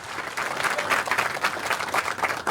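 An audience at a military basic camp awards ceremony claps vigorously, the applause swelling and dipping in uneven pulses, fairly close and lively throughout.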